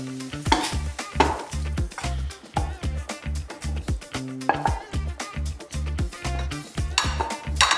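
Soya chunks being stirred in a pan, with repeated scraping and clattering of a utensil against the pan in a steady rhythm, loud and close, over a soft sizzle.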